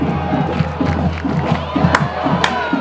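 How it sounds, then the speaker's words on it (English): A home crowd at a high school homecoming football game roars and chants to fire up its defense, a loud sustained cheer with scattered shouts and whistles rising above the din. "The Liberty crowd getting hype, trying to get their defense in the mood."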